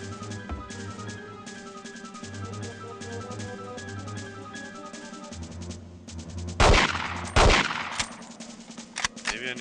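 Gunfire in a retro 007 James Bond video game played on an emulator: a steady tinny rattle of automatic shots over looping game music, then a few louder, sharper bursts near the end.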